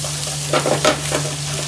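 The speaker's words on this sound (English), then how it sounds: "I'm gonna add the garlic ginger paste" Garlic ginger paste frying in a pan on a gas stove and being stirred, with a soft sizzle and a few scraping stir strokes over a steady low hum, close and without speech.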